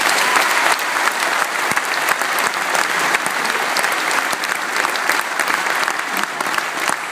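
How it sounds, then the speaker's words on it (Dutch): A gala crowd at a town sports awards ceremony applauds a girls' sports talent winner, loud sustained clapping from a large audience, steady and full throughout with a few sharper claps standing out. "Applaus"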